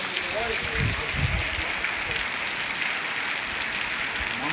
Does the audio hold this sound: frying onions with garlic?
no